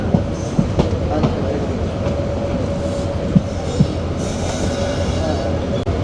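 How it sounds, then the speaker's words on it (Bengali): The Chattala Express rolls into Akhaura Junction railway station with a loud, steady rumble and a run of sharp, evenly spaced wheel clacks over the rail joints, heard from on board. "আমাদের ট্রেন চট্টলা এক্সপ্রেস এই মুহূর্তে আখাউড়া জংশন রেলওয়ে স্টেশনে প্রবেশ করলো"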